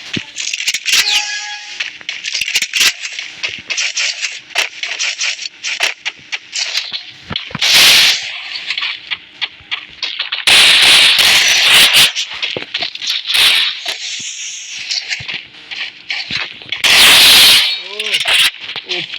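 Gunfire in a first-person shooting video game, scattered sharp shots and short bursts, some loud and close, mixed with other game effects while a player talks throughout.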